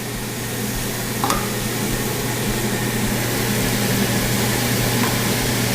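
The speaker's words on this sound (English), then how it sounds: "You want to hear a nice loud sizzle when you drop them on there." Ribeye steaks sizzle loudly and steadily on a hot grill over a low hum, with a couple of faint clicks.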